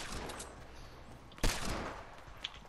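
Gunfire in a multiplayer shooter game, a single sharp loud shot standing out from a busy background of game noise, followed by a fainter distant crack a second later.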